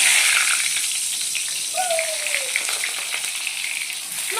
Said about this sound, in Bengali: প্রথম বেগুনটা ভেজে নিই